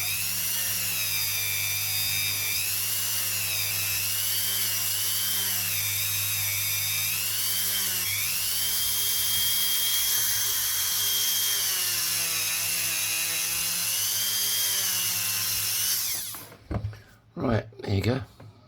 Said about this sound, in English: This is like quad zero steel on the end of this. It cleans up. It gets the fire scale off.